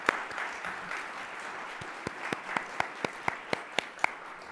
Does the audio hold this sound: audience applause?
yes